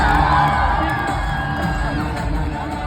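A street crowd cheering for a performer on a Chennai street: dense, loud whoops, yells and children's shouts blended into a continuous roar, with a steady underlying wash of noise.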